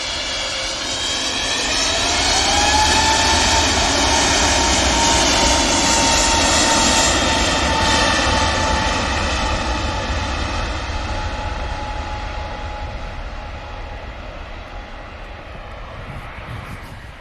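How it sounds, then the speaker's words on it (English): An Aer Lingus Airbus A321neo extended-range jet climbs away on departure for Dublin, its engine roar loud and sustained with a rising whine, swelling to a peak then slowly fading into the distance. "Erlingus. 321 Neo. Extended range aircraft heading on the return to Dublin."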